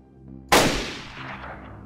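A single sharp rifle gunshot in the video game DayZ cracks out loud and close, followed by a long rolling echo that fades over about a second.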